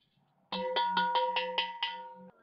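A handmade metal alms bowl struck repeatedly in quick succession, seven bright ringing strikes with a sustained shimmering tone like a temple bell, fairly quiet and alone.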